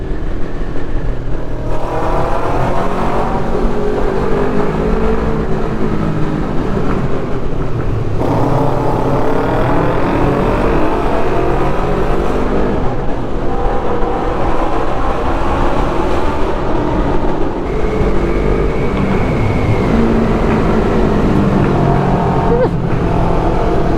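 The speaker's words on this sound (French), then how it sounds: "cette sensation de rouler là au milieu du tunnel, ça fait un barouf." A car rolls through a road tunnel on the way to the Grand Saint Bernard pass, making a loud, continuous booming roar of engine and tyres that swells and echoes throughout.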